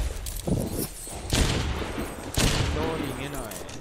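Dense bursts of rapid gunfire in a shooter video game, loud and continuous across several volleys, with a voice talking underneath.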